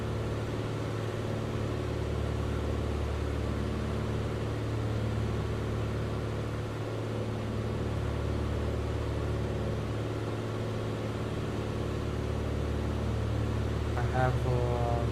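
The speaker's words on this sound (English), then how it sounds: "I hope you can hear me over the aircraft engine" A steady, loud drone of a light aircraft engine fills the cabin during a flight from Bucharest Baneasa to Thessaloniki in a JustFly aircraft. The deep hum stays constant and even throughout, with a faint whine near the end.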